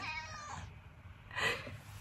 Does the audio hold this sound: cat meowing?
yes